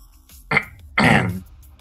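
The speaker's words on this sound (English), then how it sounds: "Sorry, that was actually me clearing my throat." A person clearing their throat, two close, raspy bursts, a short one followed by a longer, stronger rasp, with quiet around them and no speech.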